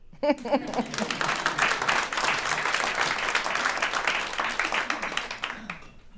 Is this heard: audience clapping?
yes